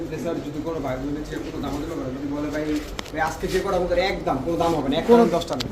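Racer pigeons coo in repeated throaty, warbling phrases close by, with a steady run of calls rising toward the end.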